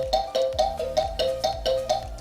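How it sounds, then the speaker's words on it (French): A phone ringtone plays a repeating electronic pattern, a short bright tone pulsing about every quarter second over a low throbbing beat, clear and steady with no talking over it. "C'est nul hein, comme sonnerie."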